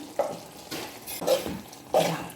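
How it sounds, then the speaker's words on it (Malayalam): Pepper mutton roast stirred in a pan after a drizzle of raw coconut oil: four rhythmic, soft scraping swishes of a spoon through thick meat, close by and moderately loud with short pauses between strokes. "ഇനി ഇതിൻ്റെ മീതെ കുറച്ച് പച്ച വെളിച്ചെണ്ണ തൂവിയിട്ട് ഒന്ന് ഇളക്കി കൊടുക്കണം"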